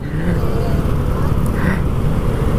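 Steady road traffic noise heard from a KRV Moto 180 scooter in congested traffic, a continuous loud rumble of engines and wind with no horns, running throughout.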